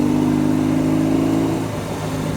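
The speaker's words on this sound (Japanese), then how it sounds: "それではちょっとエンジン回してみたいと思います。" A BMW R18 Transcontinental First Edition motorcycle engine revs at highway speed after a downshift to fourth gear, a loud, steady, close droning hum that eases slightly near the end.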